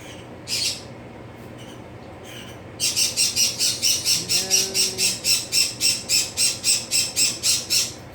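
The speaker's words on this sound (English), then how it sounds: "he's a conure. It's my son's bird." A conure parrot gives a long run of loud, harsh squawks in a steady rhythm, close by, after a couple of scattered calls.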